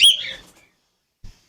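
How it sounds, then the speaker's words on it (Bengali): A caged lutino cockatiel at a bird market gives a single sharp, high chirp that fades within half a second, followed by quiet and a faint soft knock. "এটা লটিনো কাকাটেল।"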